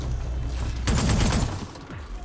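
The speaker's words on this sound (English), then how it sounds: "Plasma bomb launcher." The plasma bomb launcher firing in Horizon Forbidden West, a loud crackling blast that swells over roughly half a second against a constant rumbling background, then tapers into scattered pops.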